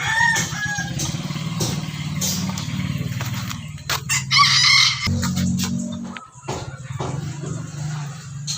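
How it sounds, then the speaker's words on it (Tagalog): A rooster crows loudly and close, with other fowl and a low engine-like rumble in the background throughout. "Napakaganda yung tilaok, master."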